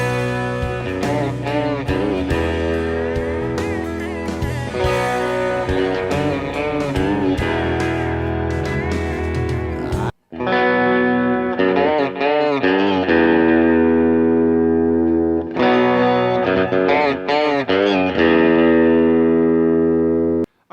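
An electric guitar on the bridge pickup plays a country lick in the style of a well-known song, with light overdrive and reverb. Quick bent and picked notes run in two loud phrases separated by a brief pause, with no talking.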